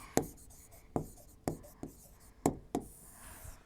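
Marker or chalk writing on a classroom board, a series of sharp scraping strokes in an irregular rhythm, close and fairly clear with no talk over it.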